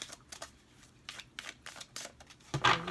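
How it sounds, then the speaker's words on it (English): Tarot cards are shuffled by hand in quick, soft papery bursts, several short riffles separated by brief pauses, ending in a louder flurry, close and fairly quiet with no speech. "Libra, we're going to shuffle 2 more times."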